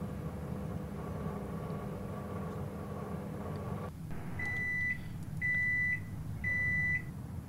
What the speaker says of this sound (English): Let's put it in the microwave.